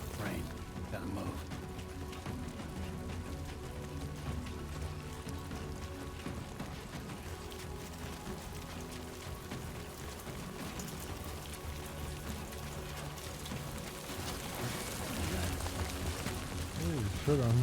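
Rain in the video game Death Stranding 2 patters as a dense, steady wash under game music and effects, with a player talking over it throughout.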